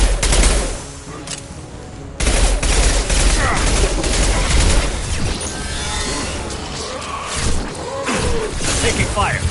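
Mass Effect 2 gunfire crackles in dense, sustained bursts of rapid shots with crashes and impacts, loud and close, while voices speak over the firefight.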